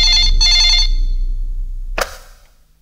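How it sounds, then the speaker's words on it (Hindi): An old telephone bell rings loudly in two quick bursts, then silence, then a sharp click as the receiver is picked up. "राज, तुमने फोन क्यों किया?"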